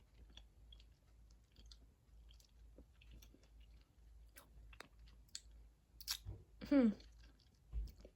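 Someone chews a bite of Cabot sharp cheddar cheese: quiet, close mouth clicks and soft squishing, then a few louder bites near the end.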